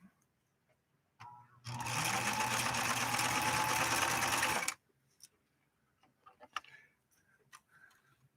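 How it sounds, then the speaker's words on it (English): A Husqvarna Viking 3600 sewing machine runs a steady stitching burst of about three seconds, loud and close, then stops, leaving light handling clicks and faint movement sounds. "See if we can get down a stitch line without this silly thing jumping off again."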